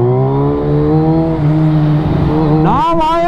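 A third-generation Suzuki Hayabusa engine runs loud and close in second gear, with power mode 1, traction control 1 and mode A set. It holds a steady roar, then revs sharply upward near the end.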